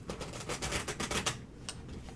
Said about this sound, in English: Let me shuffle one more. That was kind of messy.